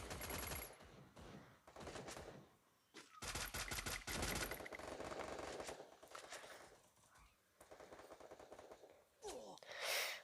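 A Thompson submachine gun fires in a video game shootout, with several loud, close bursts of rapid automatic fire separated by brief pauses and more bursts near the end.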